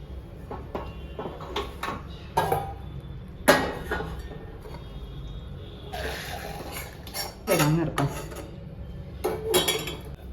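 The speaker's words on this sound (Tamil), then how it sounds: "இப்போ நம்ம வந்து இதை வேறு பாத்திரத்தில் மாற்றிக்குவோம்" Cooked greens being shifted into another vessel, with pots and dishes clinking and scraping in scattered bursts at close range, separated by quieter gaps and with no talking.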